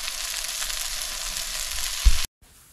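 Ginger paste and salt fry in hot oil for pineapple fried rice, a loud steady hiss and crackle close by, with a brief clatter near the end before the sizzle abruptly stops.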